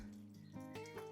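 Water running through a drainage pipe in a hillside yard after a landslide, a faint steady trickle and flow with no talk.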